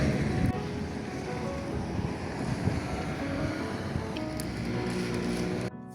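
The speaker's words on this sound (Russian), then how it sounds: "Это колонка. Сейчас наберу воды." Water gushes steadily from a street water pump into a container for several seconds, a continuous rushing noise that stops abruptly at the end.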